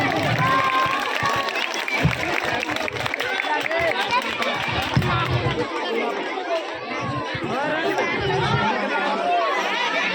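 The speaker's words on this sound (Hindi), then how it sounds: "एक बार ताली बजाकर इनका स्वागत करें।" A crowd claps to welcome prize winners at a Republic Day celebration with children at a police station, steady applause mixed with lively chatter and hubbub throughout.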